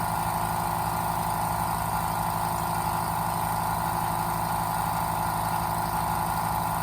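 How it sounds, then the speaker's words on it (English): A California Air Tools silent air compressor runs nearby with a steady, even motor hum and faint mechanical buzz, unbroken and constant throughout with no talking. "As you can see, compressor is on."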